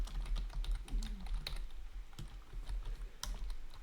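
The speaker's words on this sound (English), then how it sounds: "typing" Someone types on a computer keyboard in quick, irregular bursts of close clicking keystrokes with short pauses, fairly quiet and with no talking.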